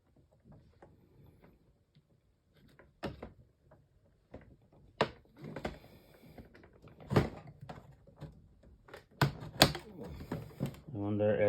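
Plastic RC Bronco body (SCX10 II) being cut open for the hood, heard as a series of sharp snips, cracks and scraping clicks growing louder and denser toward the end, close up.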